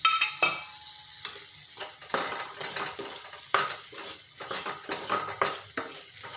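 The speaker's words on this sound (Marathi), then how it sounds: "सर्व अशी वांगी पूर्ण असे मस्त मसाला त्यामध्ये गेला पाहिजे असे छान असे मस्त परतून घ्यायचे" Eggplants coated in masala being sautéed in a pan, with repeated scraping stir strokes and spoon knocks against the metal over a steady sizzle, close and rhythmic, no talking.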